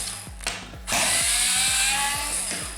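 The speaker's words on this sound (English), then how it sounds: "So I'm using the powered screwdriver to remove them" Powered screwdriver backing screws out of a pinball playfield, a few quick clicks and then a steady loud whirring drive that runs on and fades slightly, close by.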